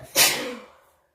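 A single sharp sneeze, close and loud, with a quick burst that trails off into silence.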